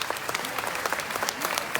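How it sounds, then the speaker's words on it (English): A crowd applauds briefly at a livestock show arena, with quick, dense clapping at moderate distance and steady intensity, lasting under two seconds. "Let's give them a big round of applause right there."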